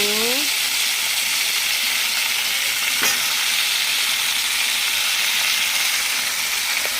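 Pumpkin and vegetables frying in a pan after a black cumin tempering, a steady hiss and sizzle running throughout with a faint clink near the start, no talk over it.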